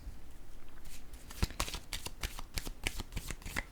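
Cards handled on a table, with a rapid series of light crisp slaps and flicks clustered in short bursts, close and fairly quiet, with no voices.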